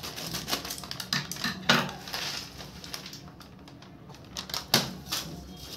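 A Shiva Snacks packet is being cut open, giving a run of small crinkly snips and plastic rustles with a few sharper crackles; the sound is close and fairly quiet, with no talking.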